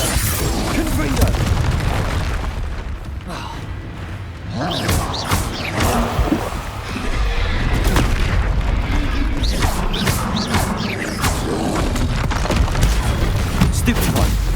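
Confringo fire spells from the game Hogwarts Legacy burst in repeated heavy booms and crackling blasts during combat, loud and close, with voices shouting over the explosions.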